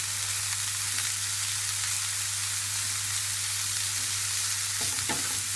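Onion sautéing over medium heat in a pan crackles with a steady, soft sizzle, and a few scraping stirs come near the end.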